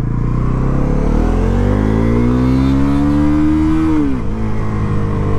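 A Bajaj Pulsar NS400Z motorcycle revs in first gear, its engine tone climbing steadily and loudly up close, then dropping sharply as the throttle closes.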